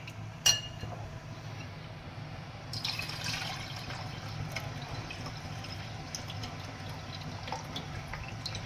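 Lentils for dosa batter being rinsed in a second change of water, with soft sloshing, trickling and a clink of the vessel early on, steady and close with no talk.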